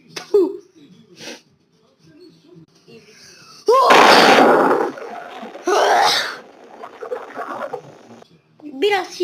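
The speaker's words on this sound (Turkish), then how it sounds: "Biraz şiddetle öksürmüş olabilirim." Someone coughs violently in two loud, harsh, raspy bursts, each lasting close to a second, preceded and followed by quieter breathy throat sounds and short vocal noises.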